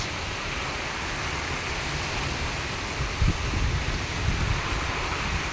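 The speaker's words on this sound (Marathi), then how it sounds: "पाऊस सुरू झालाय," Early summer rain sets in with gusting wind at a house, a steady broad rush of noise with stronger gusts buffeting the microphone partway through.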